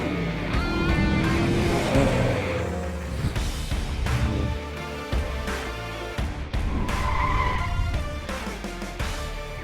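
A 1984 Chevrolet Caprice Wagon out on a cruise, its loud engine and road noise filling the clip with shifting revs and a brief tire squeal.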